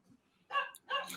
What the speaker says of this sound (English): that's my dog is going on in the background